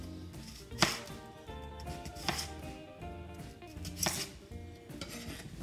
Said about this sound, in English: This is one that I like to do, is cut it in slices.